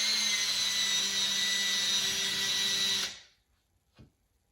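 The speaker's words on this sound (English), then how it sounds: "So you're going to drill yourself a pilot hole." A power drill whines at high speed boring a pilot hole for hanging a teacup-holder panel, a steady loud drone for about three seconds that spins down, followed by a single soft knock.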